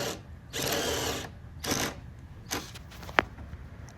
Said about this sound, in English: here we're drilling holes into our Honda Pioneer to install the hazard and turn signal light